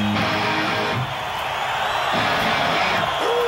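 A large crowd at a concert at River Plate on Halloween 2021 cheers and roars continuously, a dense broad wash of voices with a few shouts and whoops rising out of it.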